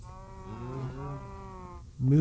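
A single drawn-out cow moo from a mining video game, a clear, fairly close low bellow lasting nearly two seconds before a louder burst of sound cuts in.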